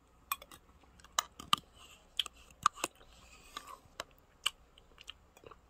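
Food is eaten close to the mic in a quiet evening setting, with soft crisp bites and chewing clicks spaced irregularly across the clip.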